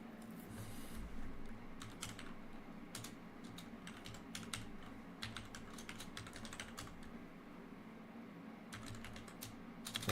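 Rapid, irregular typing on a computer keyboard during a Rocket League live stream, a steady clatter of close, fairly quiet keystrokes running throughout.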